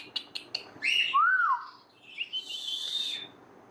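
A ringneck parrot calls up close in a short burst of chirps, a rising and falling whistle and a harsher squawk, with brief pauses between the sounds.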